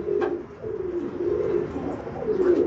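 A pigeon lying on its back gives soft, low, repeated cooing in a close, continuous murmur that rises slightly at the end, with no other sounds.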